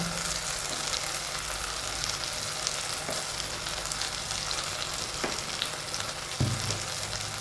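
Turmeric, chilli and fenugreek powders frying in the heat of a pan for a kingfish curry, with the stove switched off: a steady close sizzle with occasional soft stirring taps and scrapes, and no voices.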